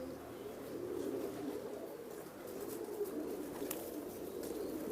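Teddy breed pigeons cooing softly in a low steady murmur, fairly faint and continuous, with a few faint higher chirps near the end.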